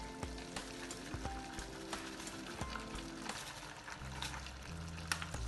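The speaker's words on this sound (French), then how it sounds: "Je mélange une dernière fois." Pasta being stirred in a pot with cream and parmesan, a soft continuous sizzle and wet scraping with irregular spoon knocks, close but faint.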